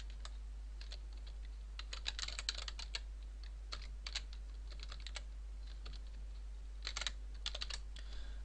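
Typing on a computer keyboard while coding in C#, with bursts of quick, light key clicks separated by short pauses, fairly faint and alone against a steady low hum.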